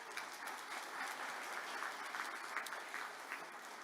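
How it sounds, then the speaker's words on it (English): A crowd at a gaming resort's grand opening ceremony gives faint, sustained applause, heard from a distance. "give them a round of applause."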